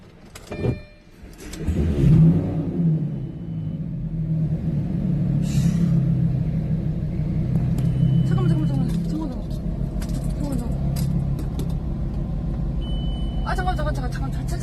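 A Lamborghini Gallardo engine cranks and fires with a sharp burst, then settles into a deep, steady rumble that continues throughout while people talk nearby.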